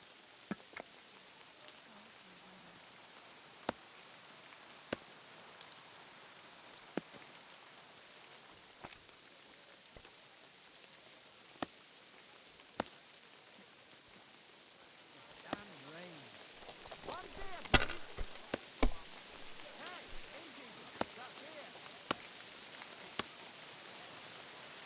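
Steady rain pours down in Kingdom Come: Deliverance II, a soft continuous patter with scattered sharper drops and ticks, heavier for a stretch in the middle, with no talking.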